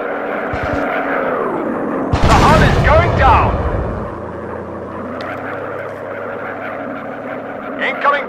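Gunfire from enemy bombers in a WWI virtual-reality dogfighting game: a loud burst of rapid shots over a droning aircraft engine, with game voices talking during the rest of the clip.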